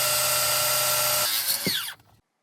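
A power saw cuts through a wooden support for a storm-damaged bench, running steadily and loudly before the blade winds down and stops near the end.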